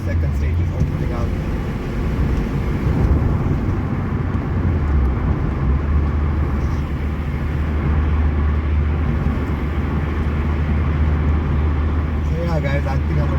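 A Volkswagen Golf Mk1 engine drones and pulls through the gears on a test drive after a cold-start fault was fixed, a steady close rumble with road noise beneath a voice talking throughout.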